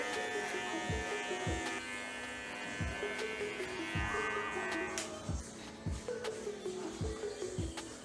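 Electric hair clippers fitted with a 1/16 guard buzz steadily while trimming a client's hair at a barbershop, the loud close hum dipping in pitch as the blades bite at regular intervals, with no talk over it.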